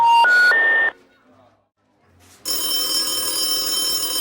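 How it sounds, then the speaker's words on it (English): Electronic telephone ringing tones come in short stepped bursts, then a brief near-silence, followed by a loud sustained electronic buzzing that continues to the end. "The 6th sequence is another combination of sounds, the phone ringing followed by 6 buzzes."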